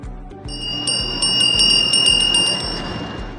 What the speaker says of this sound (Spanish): al sonar la campana